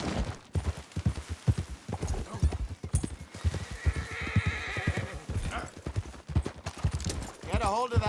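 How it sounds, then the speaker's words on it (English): A horse whinnies and hooves clip-clop steadily in the video game Red Dead Redemption 2, with game ambience and a voice speaking over it. "Get a hold of that horse, will you?"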